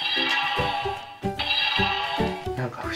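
A Lupinranger VS Changer toy plays its electronic attack effect, a series of bright chiming, sparkly tones with short rhythmic bursts, close and moderately loud, with no talking.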